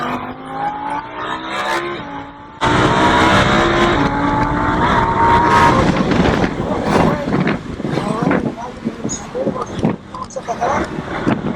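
A Lamborghini Huracan accelerates down a race track straightaway, its engine note climbing in pitch with a gear change, loud and close with wind rush, while an instructor talks over it.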